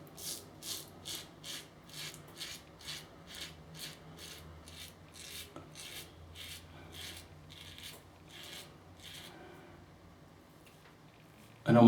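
Gillette Slim adjustable safety razor dragging across stubble along the jawline with Proraso Wood and Spice lather, making a run of short rhythmic scratchy rasps close to the mic that fade toward the end.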